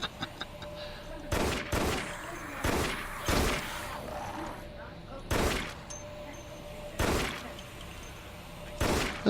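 A weapon firing in the sci-fi shooter game Dead Effect, heard as sharp, loud single shots and quick pairs spaced irregularly, with a faint hum underneath.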